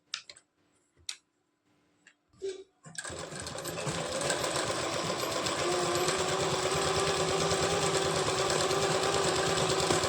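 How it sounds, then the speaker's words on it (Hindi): A few sparse clicks and soft handling taps, then a sewing machine starts stitching along the edge of a blouse belt, a fast, even mechanical whir with rapid ticking that runs steadily and close for the rest of the clip. "अब हमें यहाँ पर बिल्कुल किनारे किनारे हमें एक सिलाई लगानी है"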